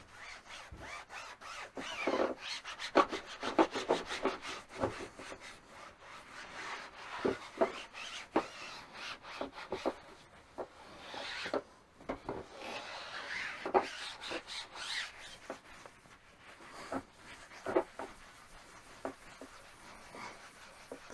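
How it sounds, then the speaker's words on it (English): Excess restoration product is wiped and rubbed off a car's interior vinyl, making irregular close scuffing and rubbing strokes that come in bursts with short pauses and stay fairly quiet. "I'm not going to know for sure until we start wiping this excess off."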